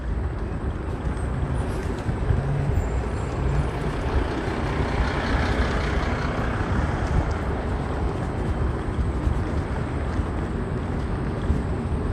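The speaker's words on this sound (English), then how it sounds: "There still is a lot of traffic on this bridge." Dense traffic crossing a New York City bridge, a continuous broad rumble of trucks and cars with engine drone and the occasional air-brake hiss, steady and close throughout.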